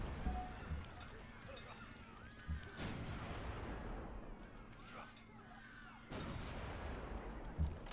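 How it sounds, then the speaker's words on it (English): Artillery opening fire in the Civilization V game, two heavy booming blasts about three seconds apart, each followed by a rumbling, crackling tail, with soft game background sound in between. "So let's have our artillery open fire."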